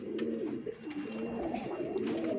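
A pigeon cooing close by in summer heat, a series of low, rolling throaty coos repeating steadily with short pauses, faint background noise beneath.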